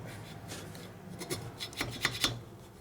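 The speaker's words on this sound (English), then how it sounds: "So you go back with this and you knock off what you can of the gasket, the excess." An old gasket is scraped off a metal part of a 1972 Harley FLH 98ci shovelhead stroker engine during a rebuild, giving quiet, close, rasping strokes that grow sharper and more frequent toward the end.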